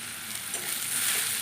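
Onion and crushed garlic fry in a pan in a steady, hissing sizzle that grows slightly louder, with occasional stirring and no talking.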